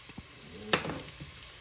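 Onions sautéing in melted butter in a pan, a soft steady sizzle hissing under a few light stirring scrapes and one sharp clink of a utensil.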